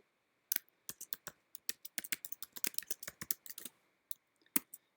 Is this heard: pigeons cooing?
no